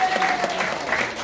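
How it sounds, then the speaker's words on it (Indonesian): An audience at a community gathering claps for the event's host, a dense wash of applause from a crowd indoors, steady and loud throughout. "Tepuk tangan untuk pengundang Bapak Ibu semua."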